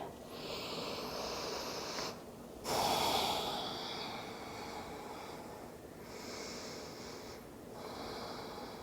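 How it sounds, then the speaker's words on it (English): Deep breathing during a yoga vinyasa flow, with slow airy inhales and exhales close to the microphone and one sharper, louder breath near the middle. No talking. "Take 2 full deep breaths to roll up."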